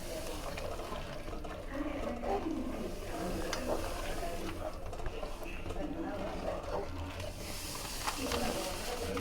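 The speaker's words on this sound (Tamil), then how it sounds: "இப்போ தண்ணி நல்லா கொதிக்குது" Steady bubbling and hissing of water boiling in a pot for rava kichadi, continuous throughout with faint background voices now and then.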